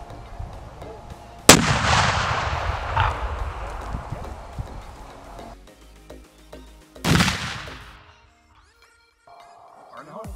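Two sharp, loud blasts from a 3D printed copper shaped charge, each followed by a long rolling echo that fades out, with brief voices between them.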